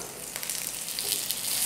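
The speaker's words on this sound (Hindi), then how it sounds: "मीडियम गैस पे ही हमें इन्हें फ्राई करना है, नहीं तो ये अंदर से कच्चे रह जाएंगे।" Hara bhara kababs frying in oil over a medium gas flame give a steady, close crackling sizzle with small pops, alone and unbroken by talk.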